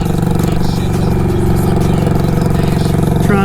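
A Harley-Davidson Sportster 48 engine revs close by, a loud continuous throttled growl with dense harmonic rumble throughout.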